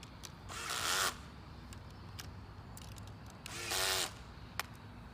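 A power drill tightens lock nuts on bolts during assembly of an arched structure, with two short whirring bursts separated by quiet pauses and a few light clicks.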